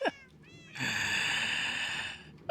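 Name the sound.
cat meowing in Minecraft video game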